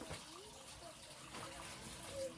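Water gushing and splashing as small clothes are washed by hand outdoors in El Salvador, a steady rushing pour with a quieter watery wash underneath.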